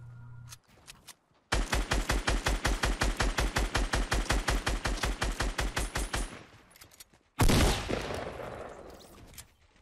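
Rapid automatic video game gunfire rattles out in a long, evenly spaced burst of about two dozen sharp shots, followed by a pause and a louder blast with a decaying tail.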